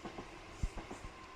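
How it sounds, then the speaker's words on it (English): A train passes at a distance, giving faint rhythmic clacking thumps over a broad rumble, with no talk. "There goes the train."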